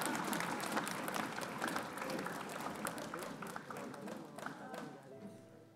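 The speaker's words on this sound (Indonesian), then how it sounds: "Tepuk tangan ya." A studio audience at an Indonesian comedy show applauds steadily, the clapping dense and sustained before gradually thinning out toward the end.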